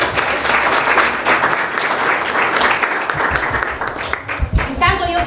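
Applause from an event audience, a dense, loud wash of clapping that fades toward the end as a voice begins speaking.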